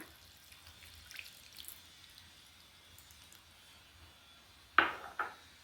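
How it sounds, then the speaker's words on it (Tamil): Two quick splashes of tamarind water poured into a pan of frying turkey berries, one right after the other, near and fairly loud after a quiet stretch. "புளித்தண்ணி ஊற்றிக்கலாங்க"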